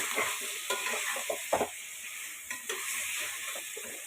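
Bone-in beef brisket pieces sizzle in a spiced pan as a spoon stirs them, with scattered close scrapes and clinks over a constant frying hiss; nobody speaks.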